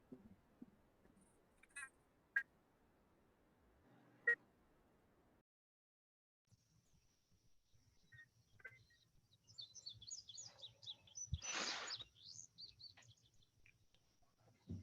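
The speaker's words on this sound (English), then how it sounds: "Cool hearing the birds chirping though." Birds chirp faintly in the distance, a few isolated tweets early on and a cluster of brief trills and calls later, all quiet against near silence and soft low background noise.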